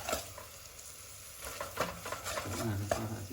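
Pork tongue stirred and fried with garlic, sugar and spices in a pot: a steady sizzle with repeated scraping stir strokes close by, growing busier toward the end.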